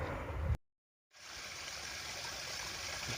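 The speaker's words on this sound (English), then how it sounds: "Always love the sound of water rushing down a mountain. It's just such a soothing sound." A mountain creek rushes downhill in a steady, broad wash of water, briefly cut off at the start before resuming and holding evenly with no voices.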